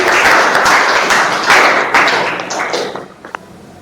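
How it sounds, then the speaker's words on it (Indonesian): A room full of people applauds, a dense burst of clapping at close range that holds strong for a few seconds and then thins out into scattered final claps. "Kasih aplaus buat Pak Hari."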